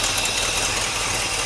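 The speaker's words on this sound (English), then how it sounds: "We have an exhaust leak over here." A 1964 Cadillac engine idles with an exhaust leak, giving a steady, close rumble with a faint rapid ticking pulse running through it, no voices over it.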